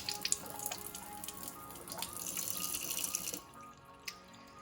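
Kangen water pouring from a tap into a glass in a home kitchen, a steady close splashing stream that stops abruptly, followed by a single faint drip.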